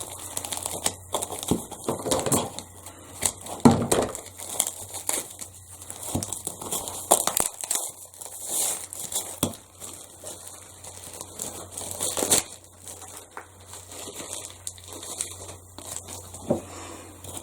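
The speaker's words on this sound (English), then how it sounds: "I'm going to unwrap this guy here" Crinkly plastic wrapping being pulled and torn off a craft supply, a close, continuous crackling and rustling with sharper snaps now and then, steady throughout.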